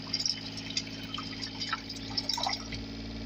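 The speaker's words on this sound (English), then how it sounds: "the pump should kick in as the sink's running." A boat's fresh water pump hums and drones continuously as a sink runs, with water trickling and splashing and faint irregular drips over the mechanical whir.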